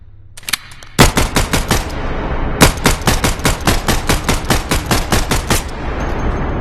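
Rapid Glock pistol fire in the Bonelab VR game, two long strings of loud, evenly spaced shots separated by a brief pause, with a few quick clicks before the firing starts.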